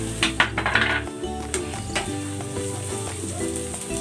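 Onions sautéing in a hot pan for Filipino bistek, a steady close sizzle broken by a few sharp metal scrapes and clinks of a spatula against the pan, with no voices.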